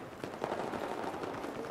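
Rapid gunfire in Battlefield 4 at close range, a dense burst of shots crackling continuously for under two seconds, fairly loud and with no talk over it.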